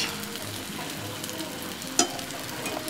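A vegetable omelette frying in a pan, a steady close sizzle with faint crackling and one sharp tap or scrape of a utensil partway through, no talking.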